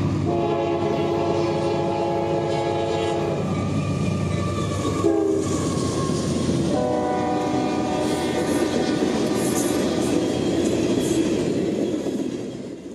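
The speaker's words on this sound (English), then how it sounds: "The evening intermodal train has been leaving earlier than usual, making it to Vitus with a full head of steam today at 6:30 p.m." Evening intermodal freight train with a three-locomotive lash-up passing close and loud, with repeated horn blasts over rumbling engines and rolling wheels that continue to the end.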